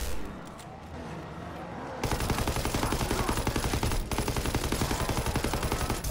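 Rapid automatic gunfire in the game Call of Duty: WWII Nazi Zombies, a loud dense stream of shots that erupts after a quieter opening and keeps pounding steadily to the end, with a brief pause midway.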